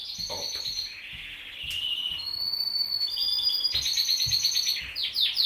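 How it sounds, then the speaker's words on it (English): A bird calls persistently outdoors, repeating bright whistled chirps and sustained notes one after another, fairly close and clear over soft background noise and a few faint knocks. "This bird won't shut up."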